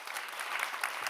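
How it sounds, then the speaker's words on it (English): Audience applause at the Nordic Fe:male Invest Summit 2023, a short steady patter of many hands clapping in a hall, evenly sustained throughout. "a big applause for you too"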